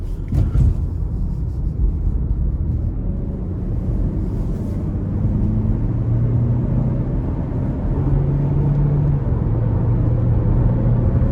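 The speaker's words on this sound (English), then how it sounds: "We're gonna accelerate getting on the interstate" A 2022 GMC Terrain SLT with the 1.5-litre turbo engine and all-wheel drive accelerates up an interstate on-ramp, its steady cabin engine drone and road rumble rising in pitch as the revs climb.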